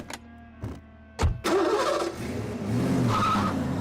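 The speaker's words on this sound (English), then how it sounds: "use that noisy tractor of yours to tow my car." A noisy cartoon tractor engine starts with a few sharp clanking turnovers, then catches and settles into a loud, rumbling idle.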